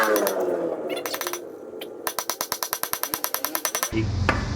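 A wheel bearing race is driven into a hub with rapid, rhythmic hammer blows during off-road trail prep. Roughly twenty sharp, evenly spaced metallic strikes ring out close by, followed by a lower rumble.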